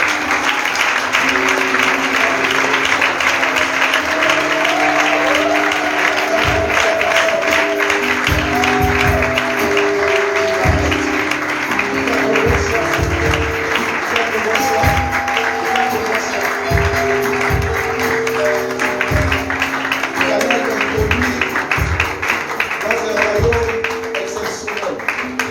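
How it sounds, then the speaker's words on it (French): A church congregation at a worship service applauds steadily and loudly throughout, with rhythmic clapping, low drum or music tones and voices mixed in the crowd noise. "On acclame pour tous ceux qui se lèvent."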